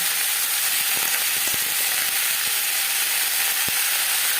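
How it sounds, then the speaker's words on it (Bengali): Capsicum and onion sizzle and fry steadily in a hot pan, a dense continuous hiss with a few soft knocks of stirring, close and loud with no voices. "পেঁয়াজের সাথে ক্যাপসিকাম বেশ ভালো করে মিক্স করে দেবো।"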